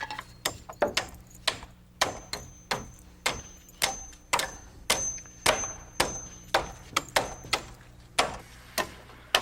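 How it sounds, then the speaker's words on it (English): A hammer drives nails through overlapping wooden purlin pieces lapped across rafter bays in roof framing, landing a rapid series of sharp, close knocks in an uneven rhythm, some in quick pairs, with no voices. "One piece of purlin isn't long enough, so we add another piece, lapping 2 or 3 rafter bays and nail them together"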